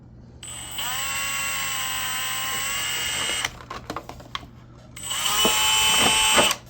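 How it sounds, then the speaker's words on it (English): A power drill boring a hole through a clear Lexan RC crawler buggy body panel: a sustained high motor whine for about three seconds, a few clicks and knocks, then a second shorter burst of drilling, close up with no talk. "Now when you drill a hole in Lexan"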